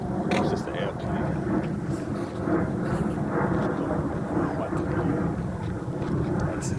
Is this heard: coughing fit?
no